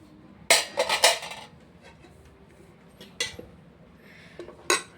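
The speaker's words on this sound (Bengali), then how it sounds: "তার আগে আমি ভাতটা বেড়ে নিই।" Hot rice served from a pot with metal utensils: a cluster of sharp scraping clinks, then two more isolated clanks later, close by against a quiet background.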